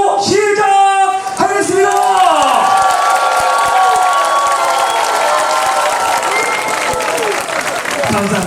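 A concert audience in a two-level hall claps and cheers loudly to welcome the performers. Vocal cheers stand out at first, then steady, sustained applause carries on under a few scattered shouts.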